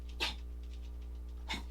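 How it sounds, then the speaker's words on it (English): A dog in the background makes two brief snorting, sneeze-like breaths about a second apart over a steady low hum, faint and somewhat distant. "That's my dog in the background, sorry."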